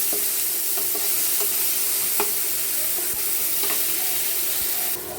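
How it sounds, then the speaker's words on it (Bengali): Cut tomatoes fry with a light sprinkle of salt over high heat, giving a loud, even hiss that holds for the whole stretch, with a few faint clicks of stirring and no voices. "চুলার হিট হাই হিটে রেখে 1 মিনিট ভালোভাবে ভেজে নিব হালকা লবণ দিয়ে।"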